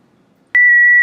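A ham radio transmits a JS8 digital-mode CQ call: after half a second of near silence, a loud, steady, pure electronic tone switches on abruptly and holds to the end.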